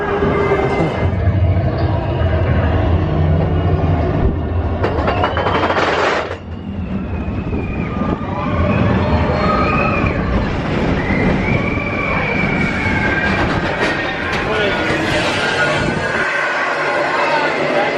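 A theme park train ride at Disney rolls along its track, a steady rumbling clatter running through the whole stretch, with crowd noise and people talking over it.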